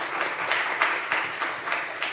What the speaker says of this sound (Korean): 여러분 박수로 환영해 주시길 바랍니다.